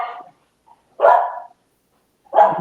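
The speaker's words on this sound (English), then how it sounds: "Dre, the dog want to get his voice in" A dog barks three times, loud and close, each bark a short rough burst separated by silence.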